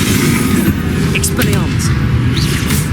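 A fire spell cast during combat in Hogwarts Legacy, a loud magical burst over a dense, constant rumble of game sound with a few brief flares and a voice-like call partway through.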